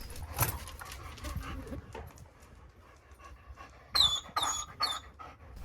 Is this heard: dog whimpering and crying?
yes